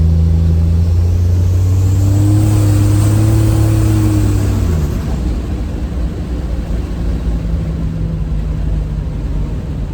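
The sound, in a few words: Buick Grand National car engine revving while driving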